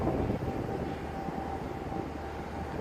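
A twin-rotor army helicopter passes overhead near the Dartford Bridge, a steady distant rumbling drone that stays level across the whole stretch, with no talking over it.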